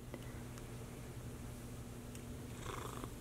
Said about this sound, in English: he's purring and just rubbing in his spit